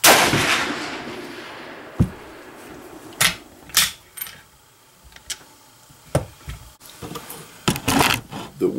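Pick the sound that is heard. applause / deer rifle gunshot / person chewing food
deer rifle gunshot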